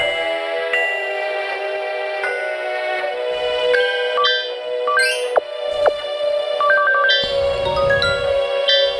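A phone rings in a video game with a melodic electronic ringtone, bright tonal notes cycling steadily for several seconds, with beeps and shifting chimes layered over it and no voices.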